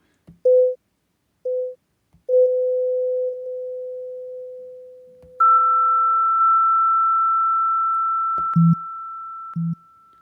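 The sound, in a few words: Xalophone iPhone app tone with light echo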